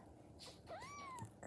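A stray cat gives a single clear, drawn-out meow with a rising then falling pitch, faint and fairly close in a quiet setting, with no one talking.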